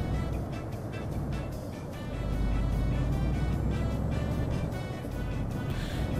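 Truck engine in Euro Truck Simulator 2 drones steadily as the truck drives, a continuous rumbling hum that swells slightly partway through, with no talk over it.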